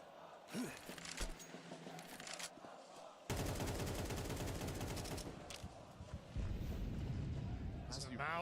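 Rapid bursts of automatic gunfire echo in a Counter-Strike 2 match at IEM Cologne, dense crackling volleys after sparser shots, with a commentator talking over the action.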